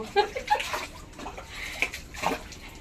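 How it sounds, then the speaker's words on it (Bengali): Dishes are scrubbed and rinsed under water in uneven bursts of splashing and sloshing, close by, with brief scraping between the pours. "এই দেখো এভাবে মাজছি এরকম মেজেছি এই দেখো ধুয়ে তুলে নিলাম"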